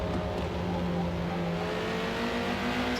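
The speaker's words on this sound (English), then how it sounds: "Wow, an A-Class car is passing me." In Forza Motorsport, a continuous race-car engine drone holds steady and loud, while a faster A-Class Ford GT40 draws alongside, one engine tone rising slightly above the other near the end.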